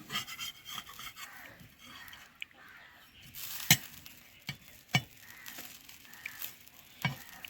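A flatbread flipped over in an oiled pan, soft scraping and stirring sounds with faint sizzling and a few sharp clicks of the utensil, quiet and close.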